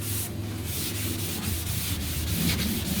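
A red scuff pad scrubs heavy rust off the hood of a 1970 Buick Wildcat, producing a continuous, close, harsh rubbing and scouring sound with steady back-and-forth strokes.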